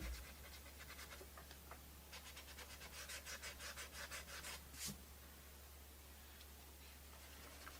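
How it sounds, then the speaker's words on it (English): A brush dry rubbing paint onto a wooden lazy susan, giving soft rhythmic scratchy strokes close up, very quiet against a low steady background hum. "This is called dry rubbing. This technique is dry rubbing."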